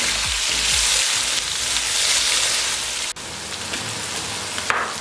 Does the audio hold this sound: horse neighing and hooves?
no